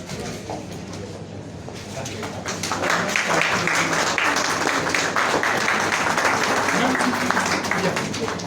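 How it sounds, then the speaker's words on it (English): An audience applauds at a contemporary Indian art gallery event in Delhi, a broad swell of clapping that builds after a couple of seconds and holds steady, with voices mixed in. "Can we have a round of applause, everybody?"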